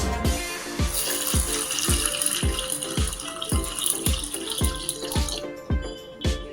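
Tap water running steadily into a sink while a tomato is rinsed, with a regular rhythmic thumping repeating about twice a second underneath.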